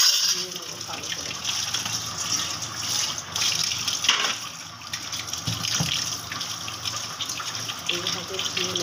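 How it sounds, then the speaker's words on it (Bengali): Raw chicken being rinsed under a running kitchen tap, a steady gush of water splashing over the meat and into the sink, continuous throughout with soft handling noises and no talk. "এইভাবে ধুয়ে নেবো ভালো করে চিকেনটাকে"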